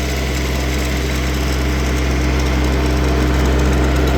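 A Kubota Aste A15 compact tractor engine drones steadily and loudly driving uphill under load, with a constant low rumble and a high mechanical whine throughout.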